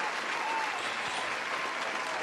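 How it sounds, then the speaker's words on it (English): A canned applause sound effect plays during a live trading stream, a continuous wash of crowd clapping at even loudness throughout. "Oh, I forgot the applause."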